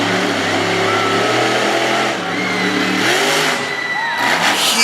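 The Overkill Evolution monster truck's engine revs hard through a freestyle run at a Woodstock, Virginia event, a loud rising and falling roar with gear-like pitch sweeps, a commentator's voice underneath.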